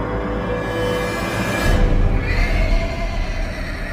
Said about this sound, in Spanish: El hambriento caballo estaba relinchando repetidamente y de forma casi extraña